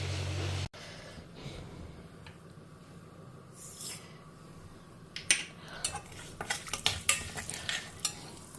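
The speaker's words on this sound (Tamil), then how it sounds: "எண்ணெய் கொஞ்சம் சுட்ட கையோடு கடுகு வெந்தயத்தை தாளிச்சிக்கலாம்" Mustard and fenugreek seeds tempering in hot sesame oil in a wok, with a steady low sizzle and then a run of sharp crackles and spatula scrapes toward the end, close up and without voices.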